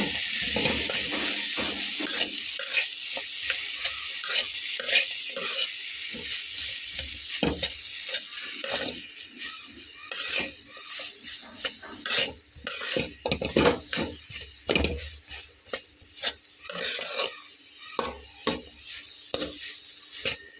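A turmeric-spiced filling of boiled ingredients and ground spices is stirred in a pan over low heat: a soft sizzle under repeated scraping and clinking of a utensil against the pan, irregular and close.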